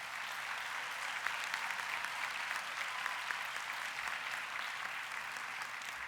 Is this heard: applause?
yes